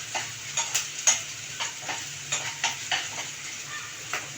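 Dried red chillies and curry leaves sauté in a pan for chicken pickle, giving a soft, steady sizzle broken by light scraping stirs at close range.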